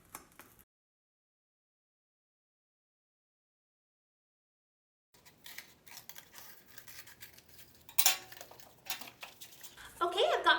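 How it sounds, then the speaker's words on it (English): Scissors cut a square out of cardboard for a homemade periscope, with close, scratchy snips and rustling that start after a long silence, including a sharp, loud cut. "I'm gonna just cut out the square"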